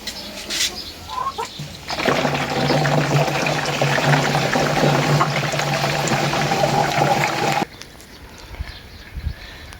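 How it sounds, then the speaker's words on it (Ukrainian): Water pours steadily into a sprayer mix for treating a garden against disease, a loud continuous gushing of about six seconds that stops abruptly, with quieter background before and after. "І додаємо водички стільки, скільки нам потрібно."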